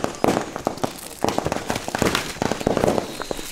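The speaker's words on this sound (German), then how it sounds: "Jetzt geht's weiter mit dem riesen China Böller D." A large Chinese firecracker goes off on a street during New Year's Eve, a string of sharp, loud cracking bursts in irregular clusters with crackling in between.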